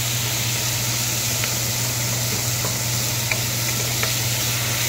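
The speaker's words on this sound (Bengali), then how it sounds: "পেঁয়াজটা সামান্য একটু ভেজে নিয়ে একটু কাঁচা কাঁচা থাকবে" Onion lightly frying in oil in a pan for karahi chicken, a steady even sizzle with a low hum underneath and a few faint clicks, close and constant throughout.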